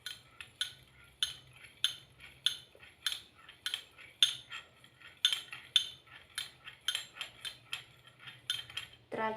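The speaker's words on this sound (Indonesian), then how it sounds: "Setelah dimasukkan minyak makan ke dalam gelas, diaduk sampel minyak makan dengan air tadi" Stirring a cooking oil and water sample in a glass, a utensil clinking sharply against the glass in a quick, steady series of taps, close and clear with faint background hum.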